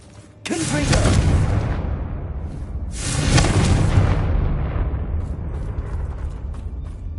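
A Confringo blasting spell explodes in a game, a sharp loud burst followed by a rumbling roar, then a second big blast a few seconds later that fades into a long tail.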